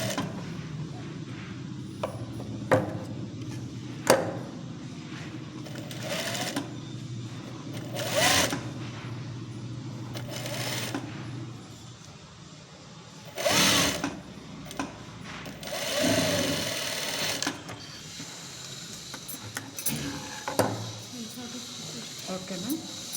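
A sewing machine stitches a katori blouse in bursts of steady whirring, stopping and starting while someone talks throughout, with occasional handling clicks and fabric rustle.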